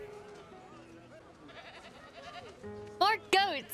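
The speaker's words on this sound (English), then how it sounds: "More goats!" Two loud goat bleats ring out near the end, following a stretch of background chatter and murmuring voices.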